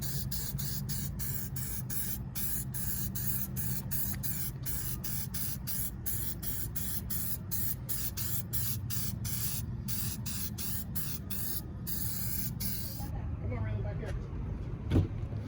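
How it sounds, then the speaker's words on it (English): A spray can of copper gasket sealant hisses in a long run of bursts with brief pauses, close and loud, during an engine swap; the spraying stops near the end, leaving quieter handling noise. "So we're spray painting it copper."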